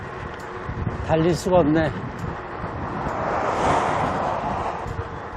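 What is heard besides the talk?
strong wind blowing while cycling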